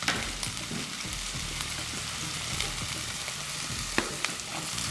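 Ginger frying in a pan for Maggi veg Manchurian, a steady close sizzle broken by clinks and scrapes of stirring, with a few sharper knocks of the utensil.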